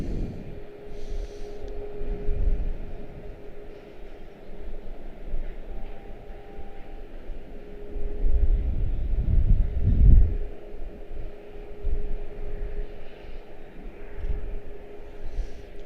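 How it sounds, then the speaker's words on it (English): An Airbus A340-600 departing Washington Dulles airport makes a distant, low jet rumble that swells and fades over steady outdoor wind noise, with no talking. "A346 is upon us. He's going to depart for us as well."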